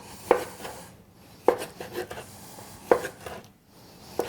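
A knife chops mahi-mahi into small cubes on a board, four sharp evenly spaced strikes with quieter slicing and scraping between them.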